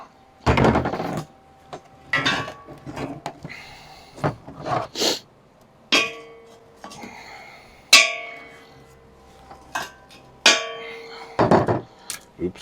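Metal is struck with hammers in a welding shop while a homemade welded table is being built. The blows are loud and sharp, fall in irregular bursts, and ring out between quieter clanks and pauses.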